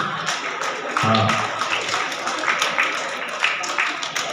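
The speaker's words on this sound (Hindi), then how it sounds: "हल्की हल्की आपकी तालियां बजती रहनी चाहिए, कंटिन्यूस" A school farewell audience claps lightly and continuously, a soft steady patter of hands kept at a moderate level, with a brief low murmur of voices near the start.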